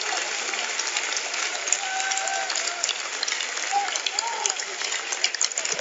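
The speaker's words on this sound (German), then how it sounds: "da gibt es braven Beifall für Granat" Polite applause for heavyweight boxer Adrian Granat in his 2017 bout against Alexander Dimitrenko, a steady, dense patter of clapping from the arena crowd with a German commentator talking over it throughout.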